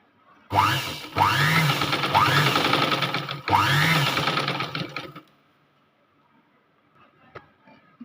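A sewing machine stitches net fabric for a puff sleeve, running in loud, close whirring bursts with brief stops and restarts, then falling silent except for a few faint clicks.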